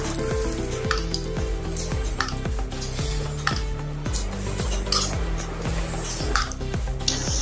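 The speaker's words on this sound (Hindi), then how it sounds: "अब इसमें हम गरम तेल डालेंगे" Hot oil hits a spiced flour mixture for Diwali namkeen and sizzles loudly and steadily. Repeated rhythmic mechanical ticks and scrapes run underneath it.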